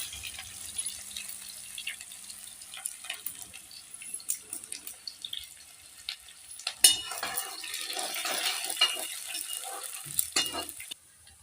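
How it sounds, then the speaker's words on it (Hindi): Onion frying in oil in a pan for a potato and pumpkin curry tadka, giving a steady close sizzle with stirring scrapes and a brief water splash near the end. "तो हमारा यहाँ पे तड़का लगभग हो चुका था"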